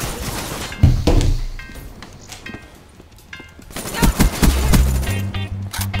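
Heavy automatic gunfire from the video game Black Ops 3 sounds in loud bursts near the start and again in the second half, with a quieter lull between them.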